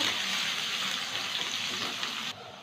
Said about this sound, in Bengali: এবার গাজর কুচি দিলাম একটু বিনস দিলাম বিনস আর গাজরটা একটু ভেজে নেব